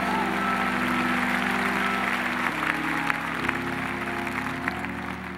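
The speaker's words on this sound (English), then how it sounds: "Give the Lord your clap offering of praise." A church congregation claps in sustained, dense applause during a praise service, with steady organ or keyboard chords running beneath it.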